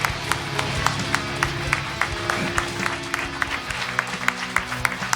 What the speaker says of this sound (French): On peut applaudir encore plus les peintres qui le méritent.